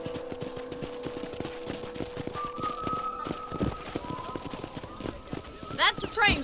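Rhythmic clip-clop of horses' hooves trotting at a steady pace, moderately close, under background music and a sustained tone, with a brief rattling burst near the end, in the video game Red Dead Redemption.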